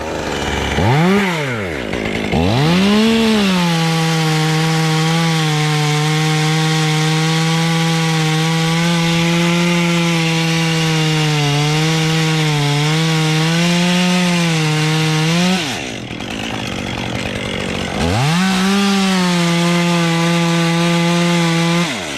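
Chainsaw cutting oak wood, loud and close, its engine holding a steady buzzing drone for long stretches, briefly dropping off around the middle and then revving back up into another cut.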